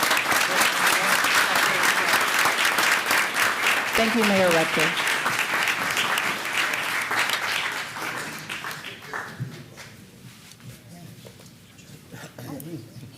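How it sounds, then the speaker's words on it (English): Audience applause at a city council meeting, sustained clapping from a room full of people that slowly fades, with a voice speaking over it and a dog barking briefly. "let's give these folks a round of applause"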